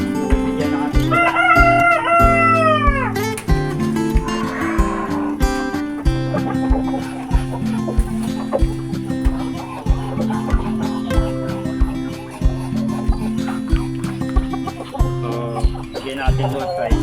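Backyard chickens at feeding time cluck and call close by, with a rooster crowing early on, while a person talks over much of the flock's chatter.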